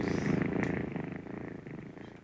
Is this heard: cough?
no